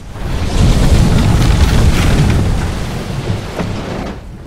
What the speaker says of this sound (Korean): 그리고 나가보니 곧바로 쏟아지는 폭우